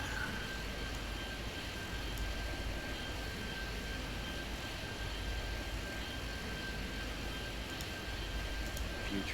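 Steady drone of an F-27 turboprop airliner engine in the Airport Madness 3D airport game, a continuous even rumble with a faint high whine, holding level throughout with no talk.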